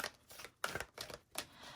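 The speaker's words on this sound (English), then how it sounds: "I just want to do a couple quick shuffles here" An angel tarot deck is given a few quick shuffles close by, with three or four short papery bursts of riffling cards separated by brief pauses and no talking.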